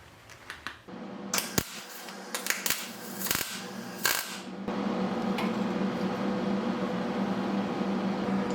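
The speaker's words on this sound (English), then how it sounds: "I'm going to weld on and make it my pedal stop." Welding a small metal pedal stop onto a go-kart frame: sharp crackling bursts and pops at first, then a steady buzzing arc hiss that holds to the end.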